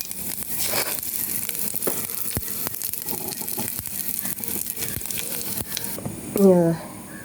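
Mustard seeds dropped into hot oil for a Malayalam-style van payar mezhukkupuratti, giving a steady close crackle and sizzle with a few sharp pops, swelling into a brief louder burst near the end.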